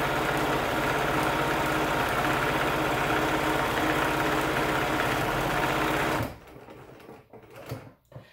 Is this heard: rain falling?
no